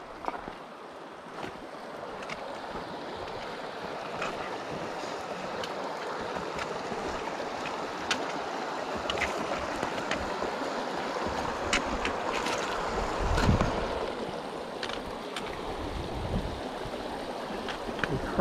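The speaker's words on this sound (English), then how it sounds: "Alright, let's cross the creek." Creek water flows continuously at a crossing in the Sawtooth Wilderness near the inlet of Farley Lake, a close, steady rushing babble with occasional splashes.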